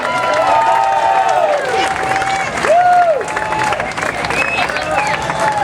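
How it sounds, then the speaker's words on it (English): A street-fair opening ceremony crowd claps and cheers for a 2012 Little League state champion team, loud continuous applause with whoops and a few whistles rising over the din. "a big round of applause for your 2012 Southern State Champion, Orange Little League"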